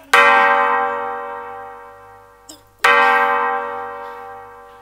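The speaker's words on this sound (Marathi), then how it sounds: "फक्त घंटा वाजतायत." Two loud bell strikes ring out, each with a long humming decay, the second coming about two and a half seconds after the first. A brief knock sounds just before the second strike.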